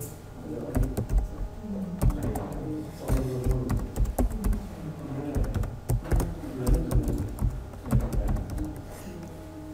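Sign-up details are typed on a computer keyboard in a steady, continuous patter of key clicks over a tonal background bed.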